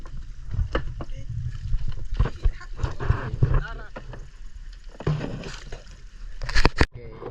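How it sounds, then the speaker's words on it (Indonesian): An ordinary wooden-style paddle rows a small boat at sea, with irregular splashes and knocks of water between strokes while people talk nearby. "sekarang kita cuman menggunakan dayung biasa"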